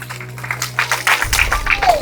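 An audience at a ceremony breaks into clapping, a short burst of hands rising over a held tone and some voices, then continuing briefly.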